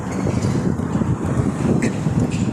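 Steady wind buffets the microphone with a low, rumbling roar, loud and continuous.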